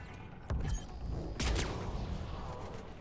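Two sharp sniper rifle shots with freeze rounds in Mass Effect 3, about a second apart, each a loud broadband crack with a short rumbling tail over steady game ambience.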